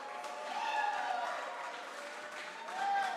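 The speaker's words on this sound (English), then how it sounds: "Please, under your applause." Faint applause rises for the Greek Hyperion Robotics team at the Eurobot 2024 robotics competition finals, heard at a distance under steady tonal music or background sound.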